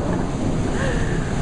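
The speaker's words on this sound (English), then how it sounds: "And it is raining." Heavy rain pours down in a dense, loud, steady roar with rumbling wind buffeting the microphone.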